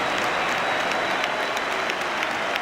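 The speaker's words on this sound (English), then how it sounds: "This guy should get the biggest round of applause he's ever got from Chelsea fans." Chelsea supporters giving a standing ovation to Florent Malouda during a Premier League match against West Ham, a broad continuous wash of stadium-wide clapping and crowd noise, steady and loud throughout.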